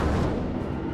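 Naval guns firing from a cruiser in the World of Warships video game, the Erie: a single heavy, sustained boom filling the whole moment, loud and close with a rumbling low-end tail.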